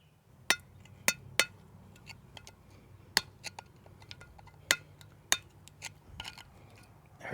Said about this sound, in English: Last time I had to chip one of these out of here with a chisel.